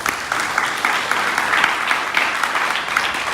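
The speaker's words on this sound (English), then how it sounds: "Let's give our candidates a round of applause" Audience at a candidate forum giving the candidates a round of applause, a dense, continuous burst of many hands clapping, close and loud from start to finish.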